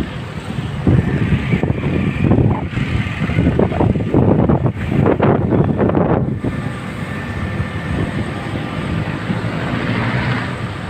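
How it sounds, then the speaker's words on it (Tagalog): Strong wind roars steadily against the microphone, a continuous rumbling buffet that gusts and eases over the whole stretch. "Ang lakas po ng hangin."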